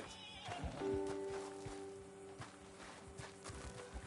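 A horse in the open-world western game Red Dead Redemption 2 whinnies loudly near the start, followed by a scattering of soft hoof thuds and clops in the background, no talking over it.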